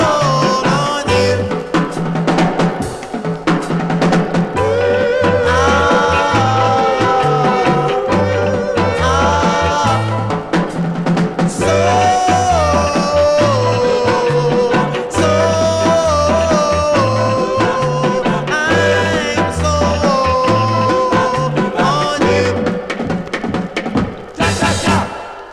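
A 1961 vocal group record plays loud and continuous, its harmonies riding over a steady rhythmic backing for the whole stretch.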